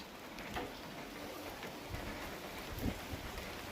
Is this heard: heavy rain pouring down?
yes